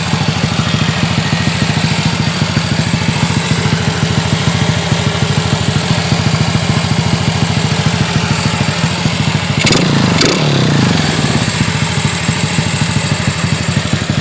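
Honda Dream motorcycle with a stock body and a fully tuned engine, close and loud, idling with a steady rapid putter, then briefly revving twice before settling back.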